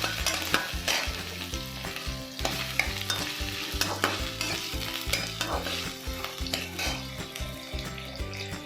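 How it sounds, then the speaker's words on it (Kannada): Onion frying in oil in a pan for a lima bean curry, a steady loud sizzle with scraping stir strokes throughout, no talking. "ಆನಿಯನ್ನ ಚೆನ್ನಾಗಿ ಫ್ರೈ ಮಾಡ್ಕೊಳ್ಳಿ."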